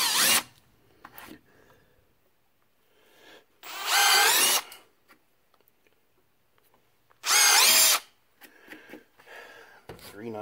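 Power drill boring holes in a static grass applicator build, two loud high-pitched whining bursts of about a second each separated by quiet gaps, with someone talking between them.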